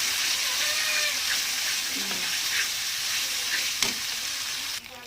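Turmeric and salt frying in hot oil for a chicken curry, a steady close sizzle with faint scraping stirs and a brief clink near the end, no talk.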